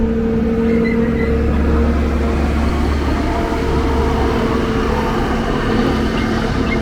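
A Scania K380 G6 coach bus idles or rolls slowly at Goiânia bus station, giving a steady low diesel drone with a faint tonal whine and no voices.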